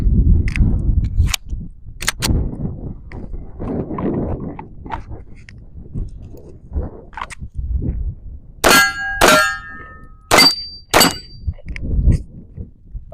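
Glock pistol shots crack at an outdoor range, several sharp reports spaced a second or two apart, followed by a run of loud ringing clangs from steel targets being hit, each with a metallic ring-out.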